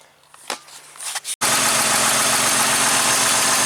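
A 2000 Jeep 4.0 engine, freshly fitted with a new valve cover gasket, runs steadily and loudly up close, starting abruptly after a few quiet clicks and holding an even, unbroken drone.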